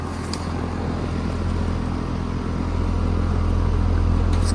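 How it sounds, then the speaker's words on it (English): An outdoor Lennox air conditioner condenser, covered in vines, runs continuously with a steady low hum and a broad fan rush. The sound is close and constant throughout. "And here is this Lennox that's running."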